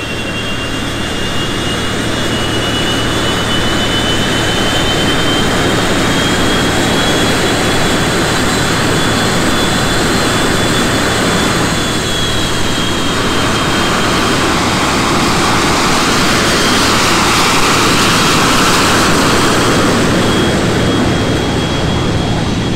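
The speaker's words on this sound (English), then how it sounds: "Taxi out is just monitor the engine, make sure everything is normal and the generator's working." An F-86 Sabre jet taxis out with its engine running, a loud, steady roaring rush with a high, thin turbine whine that holds throughout, heard close up from the cockpit.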